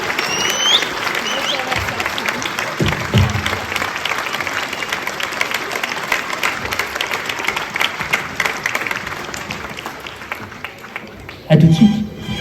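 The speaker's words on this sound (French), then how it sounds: "Et je pense que ça s'applaudit vraiment." Sustained audience applause at a New Year's greetings ceremony in Longpont-sur-Orge, a dense continuous clapping that fills the hall for about eleven seconds before a louder burst near the end, with voices mixed in.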